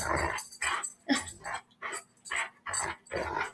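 A dog growls up close in a run of loud, rhythmic bursts, about eight rumbling pulses separated by short pauses, with no other sound between them.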